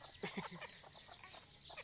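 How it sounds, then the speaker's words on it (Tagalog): Chickens cluck in short, scattered bursts nearby in the countryside of Davao Occidental, several birds overlapping at a moderate, steady level. "Ganyan yung mga manok dito sa probinsya. Lumalapit."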